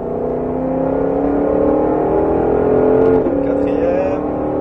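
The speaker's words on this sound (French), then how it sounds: "bien te placer d'abord et là, on accélère" A Ford Mustang GT500 engine droning steadily as it accelerates on the Mettet racing circuit, a constant loud whine with a slight shift in pitch partway through.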